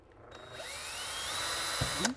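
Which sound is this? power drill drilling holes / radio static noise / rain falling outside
power drill drilling holes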